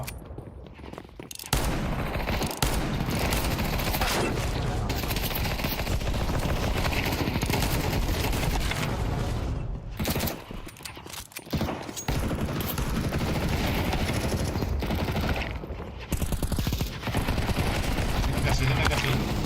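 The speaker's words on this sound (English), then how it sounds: "me están disparando" Counter-Strike 2 gunfire: rapid bursts and sustained volleys of automatic shots, loud and close, nearly continuous, with a few short gaps of near-silence.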